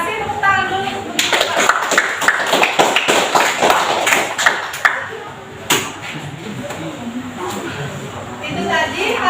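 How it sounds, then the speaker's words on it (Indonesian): A classroom audience claps for a presentation on production factors, scattered close handclaps under ongoing speech that thin out after a few seconds. "Terima kasih, tepuk tangan dulu."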